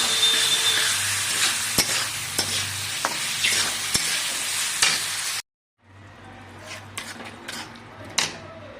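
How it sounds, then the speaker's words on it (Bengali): Boiled chickpeas frying in a pan with a loud, close, continuous sizzle and repeated spoon scrapes and taps against the metal, broken by a brief silent gap before the sizzling and stirring resume. "তো এটা ছোলাগুলো সেদ্ধ করা ছোলা দিয়ে দিচ্ছি, দিয়ে একবার ভুনে নেব।"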